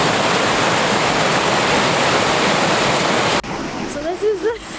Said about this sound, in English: So this is the tunnel to the waterfall